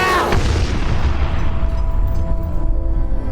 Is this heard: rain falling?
no